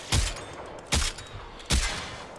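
Three spaced gunshots from a gun in the shooter game Warframe, each a sharp broadband crack with a short tail, roughly 0.8 seconds apart, loud and close with no talk.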